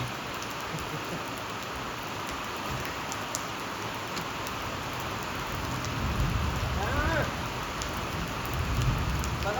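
Steady rain patters and hisses on a surface, a continuous wash of drops with a slightly heavier spell toward the end.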